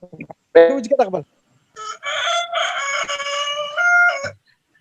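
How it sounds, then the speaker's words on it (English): A rooster gives a short clucking call, then lets out one long, full cock-a-doodle-doo crow nearby, loud and clear with no talk over it. "Is it a cock crowing?"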